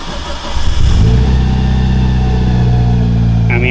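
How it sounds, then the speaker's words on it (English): A Mitsubishi Evo 4 fitted with a full aftermarket exhaust fires up cold, rising from a short crank into a loud, deep, steady idle rumble heard close by with no talking. "It did hesitate to start a little bit, but the engine's cold right now."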